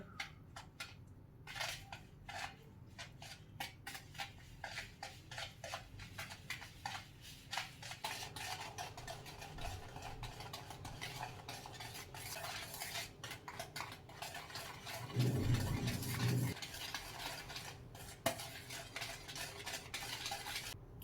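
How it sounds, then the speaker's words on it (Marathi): Ghee and powdered sugar being beaten into a fluffy biscuit batter, a fast run of close, repetitive scraping and tapping strokes against a bowl, fairly quiet and continuous with a short louder patch near the end. "हे पहा, तूप आणि पिठी साखर 10 मिनिटं मी छान एकसारखं फेटून घेतलेलं आहे."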